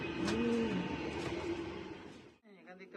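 Racing pigeons coo in low, soft, rounded calls, close by in the first half. Then the cooing fades and a voice starts talking.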